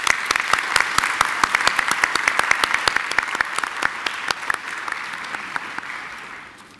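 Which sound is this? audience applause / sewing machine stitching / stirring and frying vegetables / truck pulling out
audience applause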